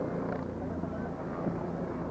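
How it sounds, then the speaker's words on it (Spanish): A Bell 407 helicopter approaching an airfield in Toluca in the morning, a steady broad rotor and engine rumble heard from a distance under people talking nearby. "ahí viene un helicóptero"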